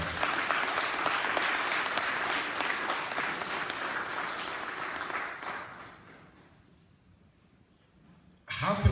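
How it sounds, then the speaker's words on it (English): Warm audience applause for a speaker at the 2nd Annual Malcolm X Symposium, a sustained crowd clapping that fades to near silence before a voice begins talking at the very end. "Please give him a round of applause."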